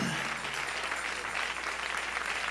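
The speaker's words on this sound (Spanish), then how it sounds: "Dale ese aplauso al Rey en esta preciosa y hermosa oportunidad." A church congregation applauds during a sermon, steady dense clapping filling the hall throughout without pause.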